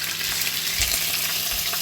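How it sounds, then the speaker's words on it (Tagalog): Fish frying in hot oil gives a continuous, close, crackling sizzle with no talk over it. "habang nakasalang ang ating pinipritong isda"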